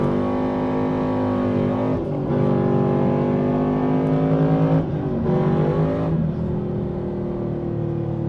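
A modified 2000 Chevrolet Camaro SS pulls away hard from a traffic light, its engine roaring loud and close with rising revs, a brief drop at each gear change, then climbing again.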